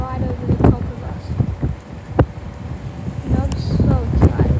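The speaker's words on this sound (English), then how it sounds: "It's quite a windy day here in Melbourne." Gusty wind buffets the microphone on a blustery day in Melbourne, a steady low rumble that swells and fades while people talk over it.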